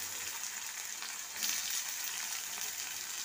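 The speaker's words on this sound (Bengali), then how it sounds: "এটা ক্যারামেল হয়ে গেছে, এবার দিয়ে দেবো পেঁয়াজটা।" Onions dropped into hot oil with caramelized sugar for a smoked egg bhuna, a steady close hiss of frying with a brief louder burst of sizzle partway through.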